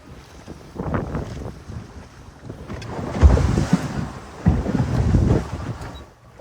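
A migrant boat rides rough Mediterranean sea in strong wind, with gusts buffeting the microphone and heavy waves surging and crashing in uneven swells, no voices.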